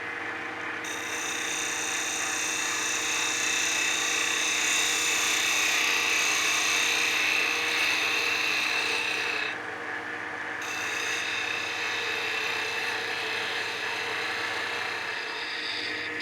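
A woodturning gouge cutting a wooden spinning top on a spinning lathe gives a steady, close, high whining scrape that runs throughout. It dips briefly partway through before continuing, with no one talking.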